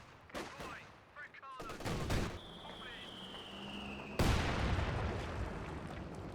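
Mortar shells and gunfire in Company of Heroes 2, a World War II strategy game: sharp blasts and bursts of shots, with a heavy impact near the end and continuous battle noise after it, under a background voice.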